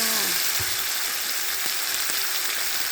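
Thai curry paste and shrimp paste stir-fry in a pan with a dense, even sizzle close by, broken by a few dull thumps and scrapes of the spatula.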